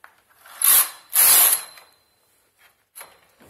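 A domestic knitting machine carriage slides across the needle bed to make a stitch, giving two loud, rasping mechanical sweeps close by, followed by a couple of faint clicks.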